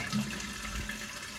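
Water gushes steadily from a leaking well pressure tank in a Maine island summer house, a continuous close splashing rush with no talk.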